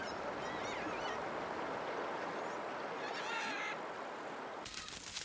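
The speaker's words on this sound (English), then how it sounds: "It attracts countless parrots." Many parrots gather at a fruiting royal palm beside the Essequibo River, giving faint, scattered squawks and honking calls over a constant background of rushing noise.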